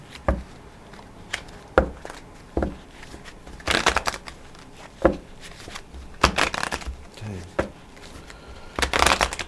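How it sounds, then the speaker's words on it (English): Tarot cards being shuffled up close in repeated short bursts, riffling snaps separated by brief pauses. "Let's get a good shuffle."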